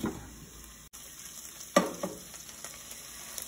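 Onions frying in a pan with a steady, soft sizzle, broken by a few sharper scrapes and taps as they are stirred; fairly quiet and close, with no voices.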